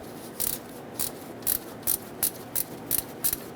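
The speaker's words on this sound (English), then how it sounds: "I'm going to stick a ratcheting wrench in here to get this bolt out." A ratcheting wrench turning a bolt during oil pressure switch work on a 2010-2017 Chevrolet Equinox, about ten crisp ratchet clicks in an even rhythm, close and clear against a quiet background.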